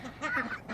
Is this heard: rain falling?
no